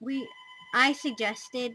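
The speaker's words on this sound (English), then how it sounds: "that's the phone, sorry." A telephone ringing indoors, with repeated sustained tones that overlap a person talking close to the microphone.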